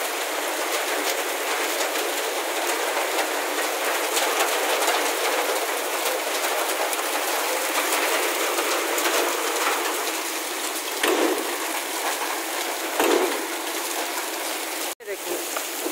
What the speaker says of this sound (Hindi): इतना ही तूफान है, और देखो ओले पड़ रहे हैं,